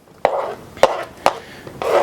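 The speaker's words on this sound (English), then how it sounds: "just make two cuts and cut bigger chunks like this" A knife cuts an onion into large chunks on a cutting board, giving three sharp, close thuds at even intervals, each with a short rustle, then a longer scraping sweep at the end.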